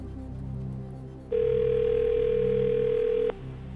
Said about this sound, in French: Il sonne, ça sonne loin.